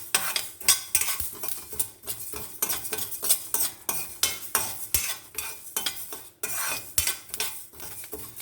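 Black sesame seeds being dry-fried for idli podi while a metal spoon stirs and scrapes the pan, a busy rhythmic clatter of strokes with faint crackling underneath, close up and with no voices.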